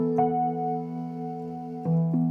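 A sustained guitar chord rings alone, with a soft re-articulation near the end.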